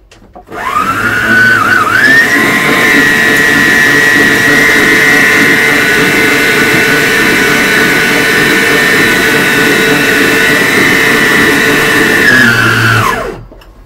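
An electric mixer whirs steadily and loudly, close up, as it beats apple tart dough with flour and baking powder. The motor spins up, holds one high, constant whine for about twelve seconds, then winds down and stops.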